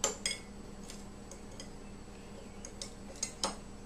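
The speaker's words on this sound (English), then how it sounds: "We'll give it a gentle stir" A utensil gently stirring dry active yeast, sugar and water in a bowl for pizza dough, giving a few faint, scattered clinks close by.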